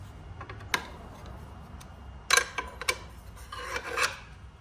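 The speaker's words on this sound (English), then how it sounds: "I'm gonna go ahead and loosen these up and move this guard out of the way. And for that, just a simple Phillips screwdriver." Phillips screwdriver loosening the blade guard screws on an Evolution R255 miter saw, heard as a few sharp metallic clicks and short rasping turns spread across the clip, close by over low background hum.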